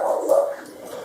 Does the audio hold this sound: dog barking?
yes